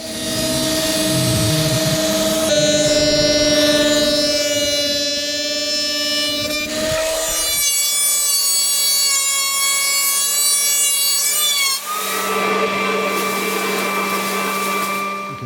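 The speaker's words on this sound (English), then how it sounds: "So I planed down 2 sides, all the wood, 4 sides on some of the 2x4 timber." A power planer or thickness planer running through hardwood and treated pine 2x4 timber, a loud continuous whining machine drone with shifting pitch as boards feed through, close and without talk.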